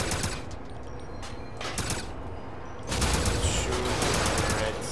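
Gunfire in Wolfenstein: sharp bursts of automatic shots rattle off in clusters, sparse at first then a heavier sustained barrage, with a voice speaking over parts of it.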